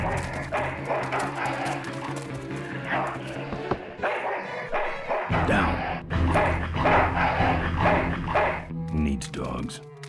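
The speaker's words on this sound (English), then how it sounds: "That dog is very angry." A dog barks and yips repeatedly in the game Full Throttle Remastered amid game background noise, with people talking over it throughout.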